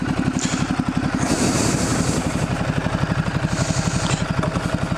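Motorcycle engine running close by, a loud, steady low thumping pulse throughout with slight rises in tone, no talk over it.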